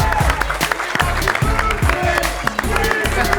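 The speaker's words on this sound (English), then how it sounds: "Let's welcome with a massive cheer, Doomsy." Crowd cheering and applauding at a Rocket League esports match in the Gfinity Elite Series, a loud continuous roar of claps and shouts filling the whole stretch with scattered voices rising within it.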